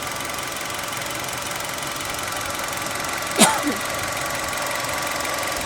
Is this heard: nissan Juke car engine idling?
yes